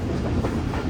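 Rehman Baba Express passenger train running on the tracks after leaving Sarari, heading toward Nawabshah station; a steady, close rumble of wheels and carriages with faint clickety-clack, heard alone.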